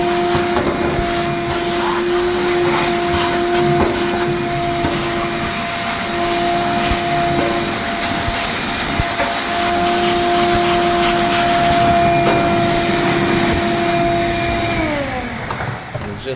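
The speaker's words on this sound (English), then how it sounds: "So let me go ahead and hit this with a vacuum." A vacuum cleaner sucks up debris inside an oven during a deposit cleaning, running loud and close in one steady, high whine that holds for about fifteen seconds before winding down at the end.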